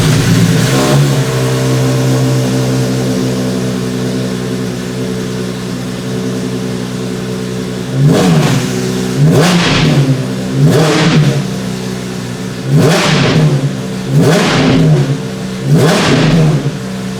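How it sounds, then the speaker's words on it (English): A Maserati MC12 with its Ferrari Enzo V12 starts and idles loudly up close, then blips through five sharp, rising throttle revs in quick succession, each one falling back to idle. "the last and probably most important step is to hear the engine on startup, just because it's a Ferrari Enzo V12"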